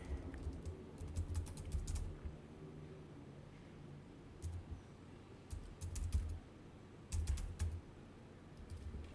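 Bursts of typing on a Mac computer keyboard as a password is entered, quick clusters of key clicks separated by pauses, fairly close and moderately loud over a low background hum.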